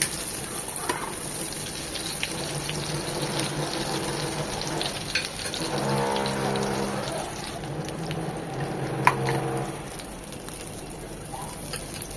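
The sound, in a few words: frying egg pitha in ghee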